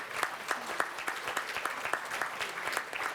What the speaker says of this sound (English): receive a well-deserved round of applause